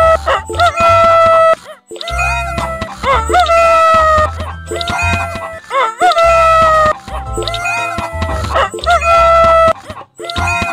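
A cartoon rooster crows in the Baby Panda World farm game, several loud bright cock-a-doodle-doo calls repeated in quick succession over bouncy game music.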